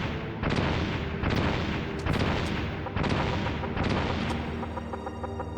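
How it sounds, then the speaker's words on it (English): A flashbang grenade goes off in Metal Gear Solid, its loud repeated bursts booming in a steady rhythm about once a second, each crack ringing out with a bright tail over constant game noise. "flashbang"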